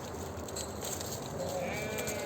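Goats bleating in a farm setting, a dense, steady livestock chorus with overlapping calls throughout, fairly close and continuous, with faint voices in the background.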